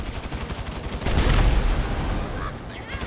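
Rapid bursts of gunfire in a modded GTA 5, a sustained volley that swells loudly in the middle and then tapers, with no talking.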